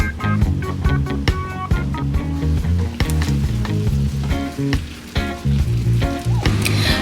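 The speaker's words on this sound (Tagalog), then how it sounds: "Igisa ang chicken sa bawang, sibuyas at luya." Chicken sautéing with garlic, onion and ginger in a pan for chicken tinola sizzles and crackles steadily up close, with scraping stirs and clinks of a utensil against the pan, under background music.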